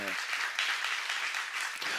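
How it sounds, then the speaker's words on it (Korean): A congregation claps during a church sermon, steady dense applause filling the room throughout, following a brief spoken word at the very start. "박수."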